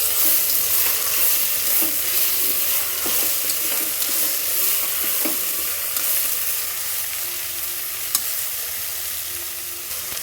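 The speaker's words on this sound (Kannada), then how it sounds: "ಎಲ್ಲ ತರಕಾರಿಗಳನ್ನ ಹಾಕ್ಕೊಂಡು ನಾವು ಫ್ರೈ ಮಾಡ್ಕೊಳ್ಳೋಣ." Mixed vegetables for a green vegetable biryani fry in a pan, giving a loud, steady hiss with occasional stirring scrapes and clicks throughout.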